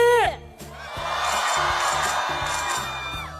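Students at a campus concert cheer together after a 3-2-1 countdown, a broad crowd roar that swells and holds over steady band music, following a brief voice at the start.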